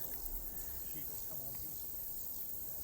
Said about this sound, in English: And a constant sound of crickets